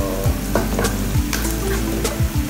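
Sliced onions sizzle in a hot pan for a beef stir fry with kangkong while a utensil scrapes through them in several quick strokes, close and fairly loud over a steady frying hiss.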